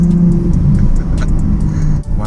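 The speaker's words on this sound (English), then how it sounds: "There's a turbo." Porsche 911 Turbo S turbocharged sports car engine droning loud and steady while driving on a slippery road, heard from inside with a brief dip near the end.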